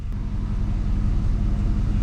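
A 2001 GM truck engine idles steadily just after starting, a low continuous rumble heard close up without talk.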